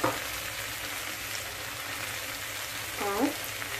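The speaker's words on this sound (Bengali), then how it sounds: "এই সময় আমি মাশরুমগুলো দিয়ে দেব" Mushrooms hit a pan of oil and a cooked-down spice paste for a mushroom and pea curry, giving a steady, close frying sizzle with a brief clatter of stirring near the end.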